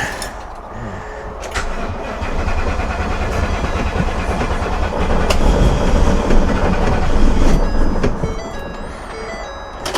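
An RV engine cranks steadily without catching, a loud, continuous mechanical churning that builds slightly over several seconds and stays close and busy throughout.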